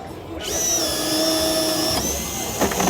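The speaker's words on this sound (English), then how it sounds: "Let's drill a hole." A Bosch 18-volt cordless drill driver whines steadily at high pitch for a couple of seconds, then its tone shifts and sputters as it bites through a 2x12 wood board, close and loud.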